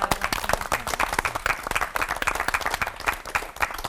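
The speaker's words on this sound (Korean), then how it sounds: "세 분의 목사님들께 특별한 위로의 박수 또 보내드리고 싶습니다" A studio audience at a CBS TV lecture gives a warm round of applause for three pastors, a dense, steady clatter of many hands clapping close by for the full stretch.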